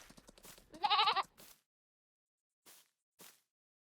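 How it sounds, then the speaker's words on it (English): A baby lamb in Farming Simulator 22 gives one clear, close bleat that wavers for a moment. Before it comes a softer rustle, and two faint short sounds follow after a pause. "Here we have a baby lamb."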